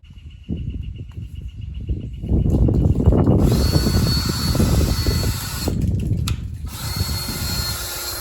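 A power drill spins a polishing pad from a 3M restoration kit against the headlight of a 2007 Camry Hybrid, a close whirring drone that ramps up and stays loud with a rough grinding texture.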